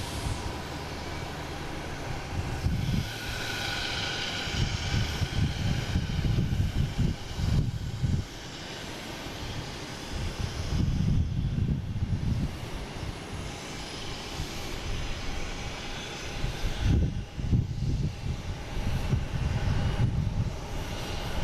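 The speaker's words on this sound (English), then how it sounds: "Now the JetBlue heading to Reagan." A JetBlue airliner departs Boston Logan bound for Reagan, its jet engine roar rising and falling in broad rumbling swells for about twenty seconds, steady and fairly loud at a distance.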